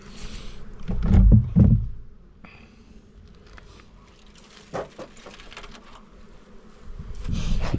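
Honeybees coming out of winter buzz around an open hive, a low droning hum with bursts of louder activity near the start and end and a few soft knocks in between.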